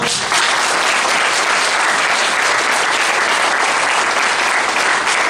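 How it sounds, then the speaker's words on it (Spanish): Loud, close applause from a church congregation honoring the Lord, a thick unbroken wash of clapping for several seconds with no voices on top. "Denle un fuerte aplauso al Señor."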